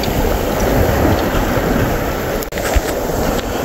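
Sea waves wash and churn around a small fishing boat offshore, a constant broad roar of water and wind with a brief thump midway, loud and close, without talk.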